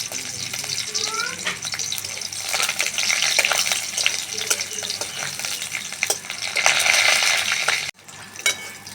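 Ginger and three green chillies frying in a pan, a continuous crackling sizzle that swells louder toward the end before briefly cutting out.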